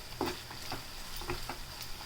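A spoon stirs ginger-garlic paste and turmeric in a hot pan, making soft repeated scrapes at an uneven rhythm over a faint, steady sizzle. The sounds are close and fairly quiet, with no talking.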